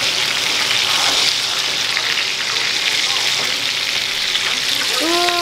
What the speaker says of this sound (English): I'm just making the bacon.